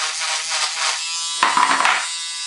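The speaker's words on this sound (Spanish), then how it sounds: "lo que vamos a hacer es taladrar donde van a ir los cáncamos" A continuous buzzing whine from an electric drill boring a hole through PVC tubing, with a sharper, louder grinding burst partway through as the bit cuts in, heard close and alone.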